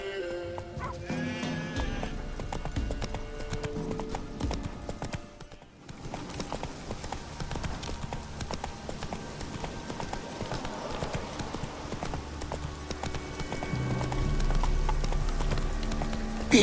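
Horse hooves clip-clop steadily at a gallop in the video game The Witcher 3, a continuous rhythmic beat heard up close over game background sound, with a short lull midway.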